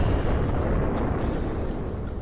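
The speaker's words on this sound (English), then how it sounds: "a devastating blow to the planet, a massive asteroid impact" The explosion of a massive asteroid impact on the planet, a deep, loud, continuous roaring rumble that fills the whole stretch and fades only slightly at the end.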